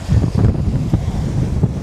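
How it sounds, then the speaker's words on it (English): Wind and surf at Puka Shell Beach on Boracay on a breezy day, low gusty buffeting across the microphone with rolling wave wash close by, continuous and fairly loud, no speech. "It's a bit windy again today, so the waves are getting up a little bit."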